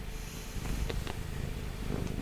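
A cat purrs close to the microphone in a low, continuous rumble with a gentle rhythmic pulse, alone and steady throughout.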